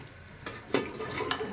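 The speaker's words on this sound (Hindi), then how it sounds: "हिलाएंगे अच्छी तरह।" Chicken do pyaza with garam masala and water is stirred in a frying pan, giving a few soft scraping strokes over a quiet, low sizzle.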